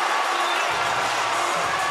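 Basketball fans clap and cheer inside an arena during a PLG game between the New Taipei Kings and Taipei Fubon Braves, a steady broadband roar of crowd noise with a low rumble building underneath partway through.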